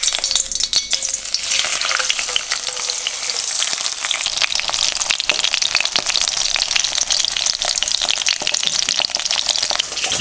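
Thin hake fillets frying skin side down in a generous pool of extra virgin olive oil, a steady loud crackling sizzle with dense spitting pops throughout.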